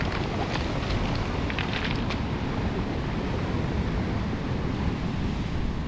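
Large storm waves surge and roll pebbles along a Scottish beach during a storm, giving a constant loud roar of surf with a gritty wash of stones and wind buffeting the microphone, with no voices.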